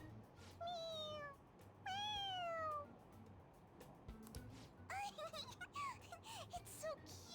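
A cartoonish cat meows several times in Persona 5 Royal, three drawn-out, clear mews followed by a burst of quicker chirpy mewing, with faint background game music beneath.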